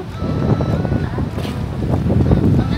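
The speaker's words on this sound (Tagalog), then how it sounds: "Ayan, ang hangin na." Strong wind blowing near the sea on Mahe Island in the Seychelles, loud buffeting gusts roaring against the microphone with a constant low rush, close and continuous.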